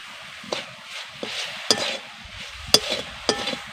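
Grated coconut and sugar filling stirred in a pan, a soft bubbling sizzle broken by several sharp spoon knocks and scrapes against the pan, close and with no talk.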